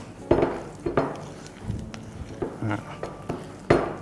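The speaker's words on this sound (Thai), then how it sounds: "นวดเข้าไปเลยครับ ยิ่งนวดก็จะยิ่งเหนียว" Shrimp cake mixture kneaded in a bowl gives a series of soft knocks and clunks against the bowl, with squelchy handling sounds in between at an uneven rhythm.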